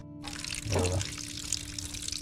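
Water runs from a tap in a steady hiss, swelling briefly louder near the start before settling back to a constant flow.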